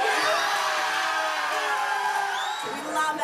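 Australian expats in a London pub cheer and whoop for Ash Barty's Wimbledon win, a loud, close burst of crowd shouting and high yells that fades slightly toward the end.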